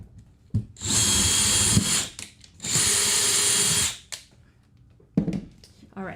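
A power drill running in two sustained bursts of about a second each, loud and close, with a whirring hum, short handling knocks and clatter between and after, while building a control panel.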